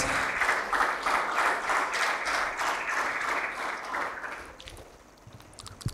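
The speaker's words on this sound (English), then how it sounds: "we give a big round of applause to a wonderful gentleman" An audience at a university MOU signing ceremony applauds in a steady, dense wash of clapping that fades toward the end.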